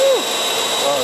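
A STIHL MSA300 battery chainsaw on an AP500S battery runs at full power as a loud, steady high whine with a brief pitch drop, then holds close and constant.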